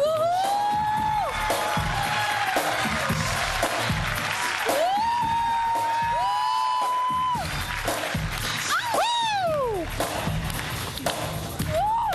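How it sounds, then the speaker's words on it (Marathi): Studio audience on a Marathi comedy show applauding and cheering loudly for a break-dance performance, steady dense clapping with whoops and shouts throughout, music-like tones riding over the crowd. "जोरदार टाळ्या"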